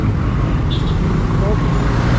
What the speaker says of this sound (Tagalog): Traffic eh, traffic.